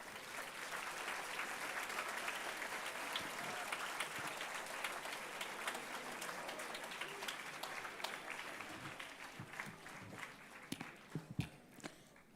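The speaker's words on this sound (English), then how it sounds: "Please give the graduates a big round of applause." A large crowd at a medical school MBBS graduation ceremony gives a long round of applause, dense and sustained at first, then thinning into scattered claps and a few louder single hits near the end.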